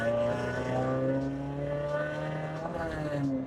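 A Suzuki Swift Sport ZC31S running a Monster Sport ECU remap drives along, its engine humming steadily with gradually rising pitch, heard from inside the cabin at moderate level.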